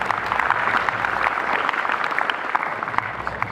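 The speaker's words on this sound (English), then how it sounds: "I think that you all have given to the huge round of applause for the ma'am." An indoor audience at a school welcome ceremony for science students and faculty claps steadily, a dense continuous round of applause with no pauses.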